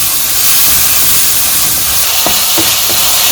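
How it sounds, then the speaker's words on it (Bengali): Potatoes sizzle as they fry in a pan with chili, fish spice mix and a splash of water, giving a loud, steady hiss with a few brief crackles near the end. "ভালো করে মশলা দিয়ে আলুটা কষিয়ে নিই।"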